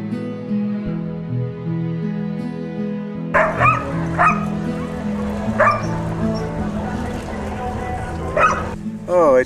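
Sled dogs of a mushing team bark, yip and whimper together in excited, overlapping bursts near the listener, with someone talking steadily underneath.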